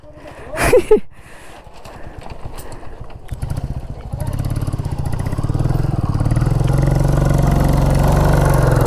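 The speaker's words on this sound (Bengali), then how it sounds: "আর এই যে এখন আসছে জয়দার বাইক" A motorcycle on a Sunday group ride near the India border approaches, its engine note rising from a low idle-like rumble into a loud, steady drone after a brief sharp noise at the start.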